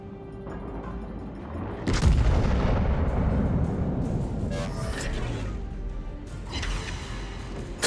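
Naval guns fire in the World of Warships video game, with a heavy booming salvo that rolls into a long rumbling decay, followed by further muffled blasts and distant impacts.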